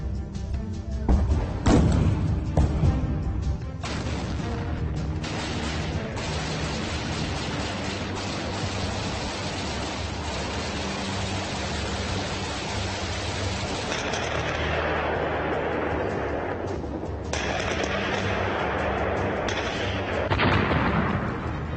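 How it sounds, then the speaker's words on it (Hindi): Heavy gunfire and artillery echo as the Russian army enters Kharkiv, Ukraine, in the 2022 war: a continuous loud rumble and crackle of distant shooting, with sharper thuds near the start and a dense roar throughout. "रूस की सेना ने खार्किव में घुसने के दौरान जबरदस्त फायरिंग की है"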